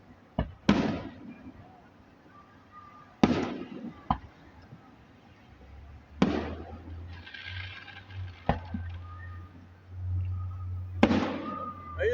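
Fireworks go off in a string of sharp, booming bursts a few seconds apart, each trailing a brief crackle, over a low steady hum from a nearby outdoor setting with amusement rides.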